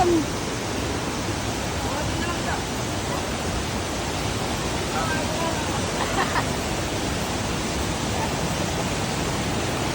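The Cedar Impasug-ong waterfall in Bukidnon roars as a broad, steady rush of falling water that fills the whole scene evenly, with faint voices barely audible beneath it.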